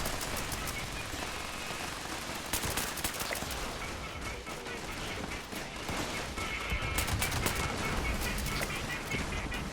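Rapid gunfire bursts from Fallout 76 gameplay while shooting at super mutants, with dense overlapping shots crackling continuously at high intensity.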